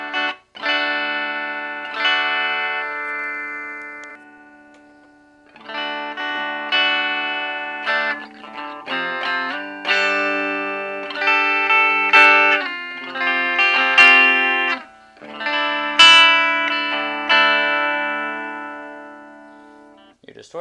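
Electric guitar with a Seymour Duncan bridge pickup and Jazz neck pickup, played through a small practice combo amp on its clean channel, ringing out in sustained chords and picked phrases with short pauses between.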